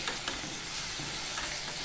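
Onion sautéing in a kadhai, stirred with a steel spatula, gives a continuous soft sizzle and crackle with light scraping, steady and close, with no talking.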